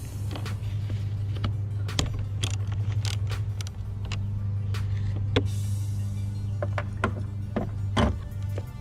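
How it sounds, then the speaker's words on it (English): A 13mm socket and ratchet working the negative battery cable nut on a Chevy Impala, a series of sharp metallic clicks and clinks spread irregularly over steady background noise, close by and with no talk. "remove this nut from the negative cable, and I'll do that with my 13mm socket and ratchet"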